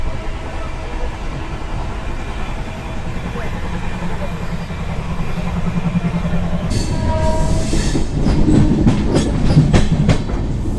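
Passenger express train running on the rails between Ahmedabad and Chennai, heard from inside as a steady rumbling roar that turns into louder rhythmic clickety-clack beats in the second half, with a voice talking faintly underneath.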